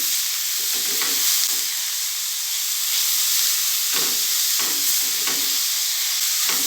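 Grated carrots are stirred and sautéed in a pan over low heat: a steady close sizzle and hiss, broken by soft intermittent scraping bursts from the stirring, with no voices.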